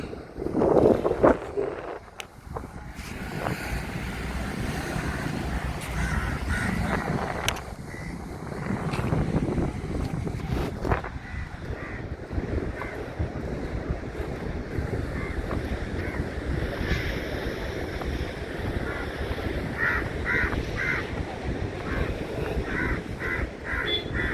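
Waves washing onto the beach near the Thiruvanmiyur RTO office, with continuous surf and heavy wind buffeting the microphone, and crows cawing now and then in the background.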